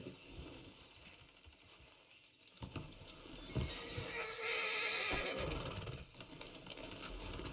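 Horse neighing and hoof clip-clops in the video game Red Dead Redemption, a loud whinny rising mid-clip over steady hoofbeats, with jangling tack and no speech.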